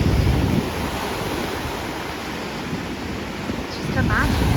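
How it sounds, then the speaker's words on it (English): Ocean waves break steadily on a shore, a loud continuous wash with a swell of surf near the end, mixed with wind noise on the microphone. "Imagine looking out at these beautiful waves."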